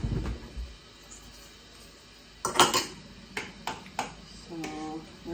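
A metal spoon scrapes and clinks against glass regular mouth canning jars while apple pie filling is scooped in, with several sharp ringing taps and clatters close by.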